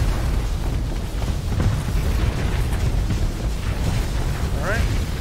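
Ship weapons fire in Starsector space combat, a dense run of rumbling blasts and booms with a couple of brief rising zaps near the end, loud and continuous, a voice talking faintly beneath.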